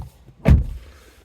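A single dull thunk as a car door on an MG ZS opens, one short close knock with nothing else around it.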